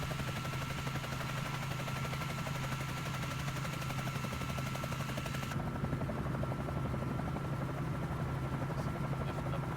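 Bell 47J Ranger helicopter in flight in Microsoft Flight Simulator, a steady loud rotor drone with rapid blade chop that runs unbroken throughout, close and alone with no talk.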